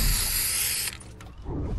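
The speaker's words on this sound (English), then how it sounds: "I'm gonna color code it with the spray paint." A loud, steady hiss of spray paint in the video game Fortnite for just under a second, then a brief quieter pause before another faint hissing burst.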